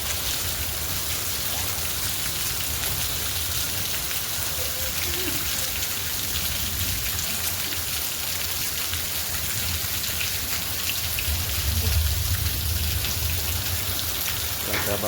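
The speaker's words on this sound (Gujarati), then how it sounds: "તો આજે વરસાદ આવ્યો." Heavy rain pours steadily and close by in a dense, continuous hiss of drops hitting surfaces, with a deeper rumble swelling near the end; a storm with hail and strong wind.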